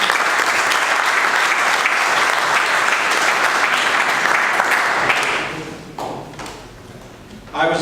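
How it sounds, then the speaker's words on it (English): Audience applause fills a large gathering hall in a steady dense wash of clapping for several seconds, then fades out and stops. "So applause for Mr. Ansel."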